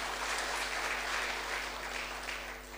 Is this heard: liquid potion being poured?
no